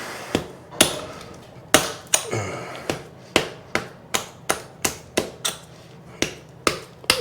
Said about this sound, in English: Plumber's putty gets hard. I'm just breaking it away.